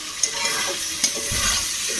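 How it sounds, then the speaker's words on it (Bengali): Soft, steady sizzling of okra frying in a pan, with a couple of light scrapes of stirring. "ঢ্যাঁড়সটা ভাজা করব"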